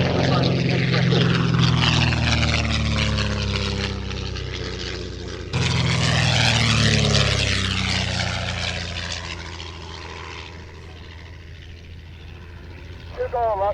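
A Percival Mew Gull propeller racing aircraft flies past at an air show, a loud droning engine with a rising and falling pitch sweep that fades into the distance, with a commentator talking over it.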